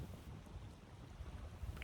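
Gusty outdoor wind buffets the microphone in a low, rumbling roar, constant and fairly loud, with no voices.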